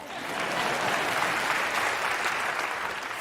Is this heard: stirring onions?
no